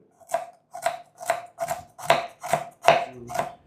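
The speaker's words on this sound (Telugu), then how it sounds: "ఇప్పుడు ఒక 1 ఇంచ్ అల్లాన్ని కూడా కట్ చేసుకున్నాం. వీలైనంత సన్నగా కట్ చేసుకోవాలండి." A knife finely chopping a one-inch piece of ginger on a board for upma, with seven steady, evenly spaced close thuds and no talking.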